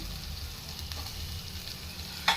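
Onion paste frying in a pan for a crab curry gives a soft, steady sizzle with a low rumble beneath, ending with a brief utensil click.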